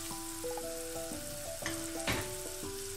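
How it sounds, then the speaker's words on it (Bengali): A ripe tomato fries with spices in a pan for a dried fish curry, giving a steady close sizzle with stirring scrapes and a brief louder crackle, with no talking. "এখন দিয়ে দেবো 1টা পাকা টমেটো।"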